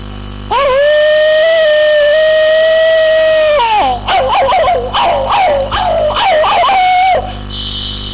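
A person imitates a dog, first with a long sustained howl and then with a run of yips and whimpering howls, loud and close, without other voices.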